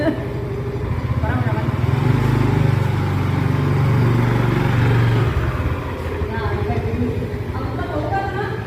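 A scooter engine hums steadily as someone relearns to ride, a continuous close motor drone that swells in the middle then eases slightly, with people talking over it.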